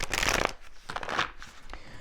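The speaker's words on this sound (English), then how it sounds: "let's switch over to this deck, and let me give it a shuffle real quick" A deck of tarot cards is shuffled by hand in two or three quick riffling bursts, crisp and close, separated by short pauses with no talking.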